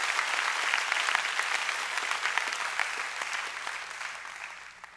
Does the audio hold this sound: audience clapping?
yes